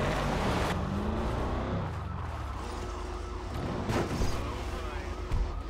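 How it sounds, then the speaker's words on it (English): A car driven in a GTA roleplay game, its engine roaring loudly up close with shifting pitch, a brief burst of tire noise and sharp clatters over the top. "I'm gonna move a car really quick to block that Lambo."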